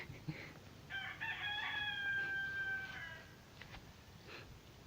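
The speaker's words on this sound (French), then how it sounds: "il y a aussi un coq à côté" A rooster crows nearby in the French countryside, one long drawn-out call with bright harmonic overtones, loud against a faint outdoor background during a casual Mölkky game.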